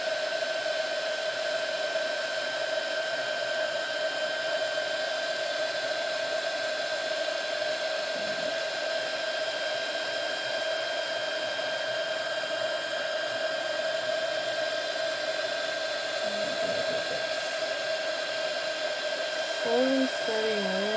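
Heat gun blowing hot air over resin while making resin art from ceramic coasters, a constant close whirring hiss with a steady tonal whine running unbroken throughout.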